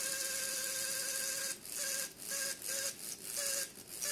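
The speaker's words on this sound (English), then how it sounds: "this motor sounds terrible" A small electric motor driven through an H-bridge whines steadily, then stutters into rapid on-off pulses as it switches direction, a thin buzzing tone that is close but fairly quiet.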